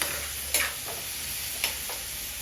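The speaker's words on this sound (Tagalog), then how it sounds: "halo mo lang na maluto itong chicken" Ground chicken giniling fries in a pan with a steady, close sizzling hiss, while a spatula stirs it in two brief scraping strokes that rise above the constant frying.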